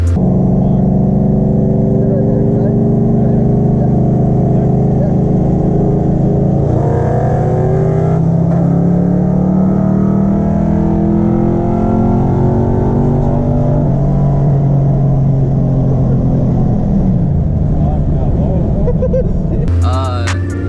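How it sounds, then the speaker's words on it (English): A cammed Ford Mustang GT engine revs hard and holds high, repeatedly bouncing off the rev limiter with a sustained, loud roar throughout, its automatic transmission not shifting properly. "Yeah, it's not shifting right, man. It's hitting the rev limiter"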